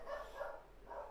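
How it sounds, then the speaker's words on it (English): A dog barks faintly in the background indoors, a few muffled woofs in quick succession during a live stream. "Excuse the dog."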